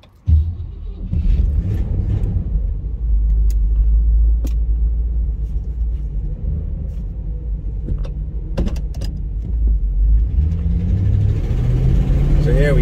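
A passenger car running on 0W-20 oil cruises down the road with a steady low engine rumble and road noise throughout, swelling slightly as it accelerates near the end.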